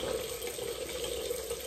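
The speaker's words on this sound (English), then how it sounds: "Put some cold water on it." Cold tap water runs from a faucet in a steady, soft stream, a quiet continuous hiss and trickle with no voices over it.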